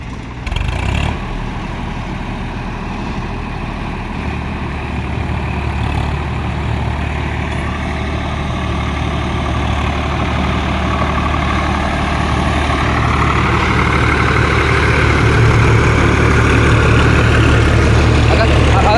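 A Swaraj 855 4WD tractor engine runs working in mud, a steady low diesel drone that slowly grows louder, with voices talking over it.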